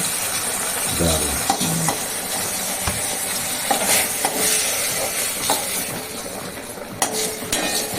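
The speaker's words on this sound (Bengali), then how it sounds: "ভাজা কালো জিরে দিয়ে বেগুন ভাজা তুলে দিচ্ছে" Eggplant slices frying in oil with black cumin, a steady sizzle with a spatula stirring and scraping the pan, metal clinks and a few sharper knocks, close and alone with no talk.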